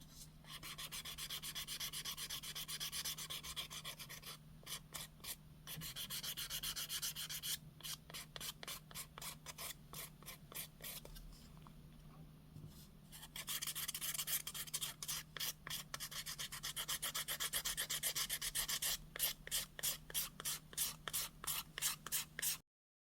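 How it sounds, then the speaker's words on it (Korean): Fine sandpaper rubs back and forth across a cowhide Saffiano leather edge in quick rhythmic strokes, close and quiet, with brief pauses between bursts of scratchy sanding. "부드러운 사포를 이용해서 단면을 다시 문질러 주세요"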